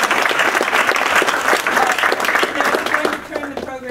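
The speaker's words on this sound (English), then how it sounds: "and now let's give a round of applause." Applause rings out at a scholarship awards ceremony, a dense wash of clapping from the audience that fills the room and tapers off toward the end, with faint voices mixed in.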